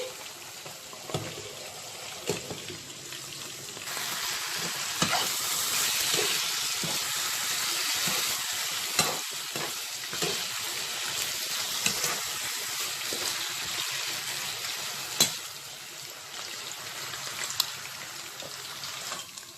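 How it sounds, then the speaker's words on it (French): Chinchard fish frying in a deep fryer gives a steady, moderately soft sizzle and bubbling hiss with occasional crackles and pops, no voices over it. "j'ai déjà tourné mon poisson. Et j'attends, je laisse cuire le deuxième côté."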